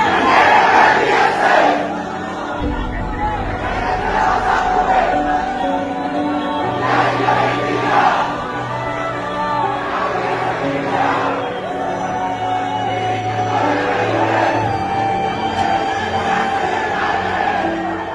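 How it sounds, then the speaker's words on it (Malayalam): Large crowd lining both sides of the road during a funeral procession for a political leader, a dense roar of many voices with rhythmic shouted slogans and chants rising and falling throughout. "റോഡിന് ഇരുവശങ്ങളിലും വൻ ജനക്കൂട്ടമാണുള്ളത്"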